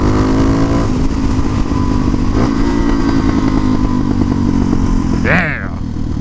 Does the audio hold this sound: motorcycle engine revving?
yes